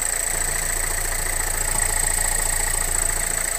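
A 2016 Renault Megane 3 engine with 77,000 km idles steadily at close range, a continuous low rumble with a faint high whine over it, and no voices.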